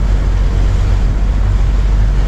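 Viking sport fishing boat passing at sea, heard as a steady broad rumble of engine and hull wash mixed with wind and surf, constant and fairly loud throughout with no talk.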